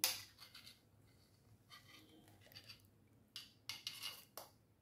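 Grated cucumber is worked through a metal sieve over a bowl, making faint, scattered metallic scrapes and taps that grow into a brief cluster of clinks near the end.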